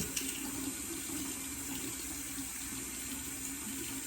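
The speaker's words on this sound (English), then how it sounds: "Gotta wet the brush." A bathroom tap runs to wet a toothbrush, giving a soft, steady stream of water that stays even throughout and is heard at low level with no voices.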